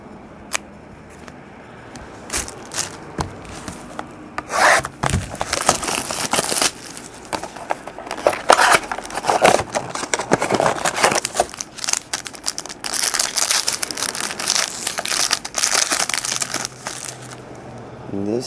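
Crinkling and scraping of a stiff football trading card box lid being pushed shut, with scattered clicks and rubs over several seconds, close and fairly quiet.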